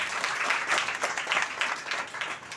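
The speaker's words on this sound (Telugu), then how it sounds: "చప్పట్లు కొట్టి ప్రభువును మహిమపడతాం" A church congregation at a Christmas service claps together in sustained, dense applause that holds steady throughout.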